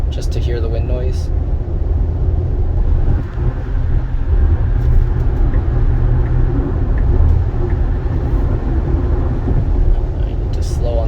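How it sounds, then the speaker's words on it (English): Wind noise inside a 2022 Tesla Model Y cruising at 80 mph forms a steady low rumble and broad hiss throughout, with a person talking over it. "let's go up to about 80 miles an hour just to hear the wind noise"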